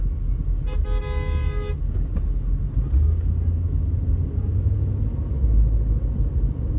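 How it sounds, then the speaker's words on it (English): Saturday evening traffic at Harmon Avenue on the Las Vegas Strip: a steady loud rumble of engines with a sustained car horn blast near the start and a few brief honks afterward. "look at the traffic here on Harmon West"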